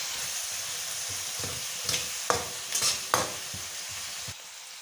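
Garlic and chicken being stirred and fried in a curry pan, with a steady sizzle under repeated scraping strokes of a spoon against the pan, close and moderately loud, no talking.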